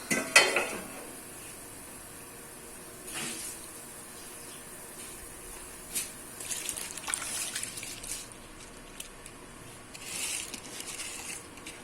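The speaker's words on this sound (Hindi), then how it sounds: "हमारा पानी बॉईल हो गया है। अब हम इसमें चावल ऐड करते हैं।" Rice poured into a pot of boiling water in a home kitchen, with soft clinks of utensils against the pot, bubbling and light stirring, fairly quiet and close with no talk.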